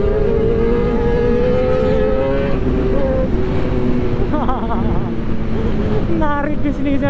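Kawasaki ZX10R motorcycle accelerating hard on a Cikarang road, a loud sustained engine roar climbing in pitch, with a person talking over it.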